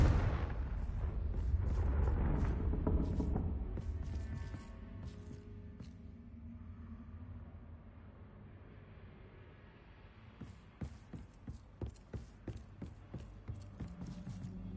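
Confringo spell blast in a Harry Potter video game, a loud fiery explosion that rumbles and fades over several seconds, followed by a quieter stretch and then a rapid series of sharp clattering hits.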